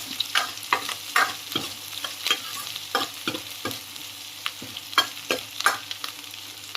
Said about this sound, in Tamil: இப்போ பச்சை மிளகாவும் லைட்டாக வதங்கியிருக்கு